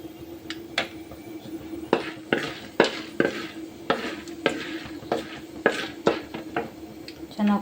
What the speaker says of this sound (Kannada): ಕಡಲೆಬೇಳೆ ಹಾಕಬೇಕು, ಫ್ರೈ ಮಾಡ್ಕೋಬೇಕು.